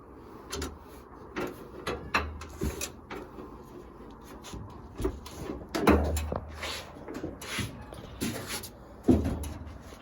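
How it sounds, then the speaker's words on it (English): Door of a 1963 Ford Unibody fitted with a 2006 Lincoln Aviator body and stock Lincoln latches, opening in a garage: a string of close, sharp clicks and latch knocks, the loudest near the middle and again toward the end. "Open the door here."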